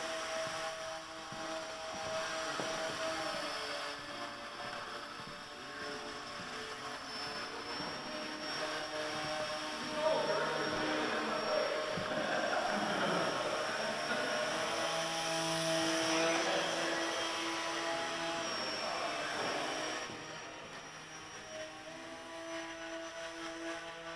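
A small tricopter drone flying indoors, a steady whirring propeller buzz with shifting pitch that swells louder midway and eases off toward the end, heard alone without talk.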